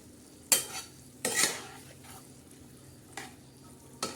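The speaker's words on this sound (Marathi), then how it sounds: "आपण याच्यावर मस्त आता परत एकदा असे छान हलवून घेऊ" Green bean pods frying in red masala being stirred in a pan, with a few distinct scraping, clattering strokes and a low sizzle between them, fairly close and with no voices.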